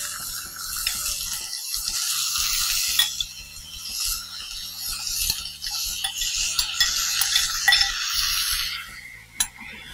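Small cubes of diced liver are tipped onto onions frying in a pan and stirred, giving a bright, hissing sizzle broken by irregular scrapes and knocks of the spoon, close and unaccompanied by voices.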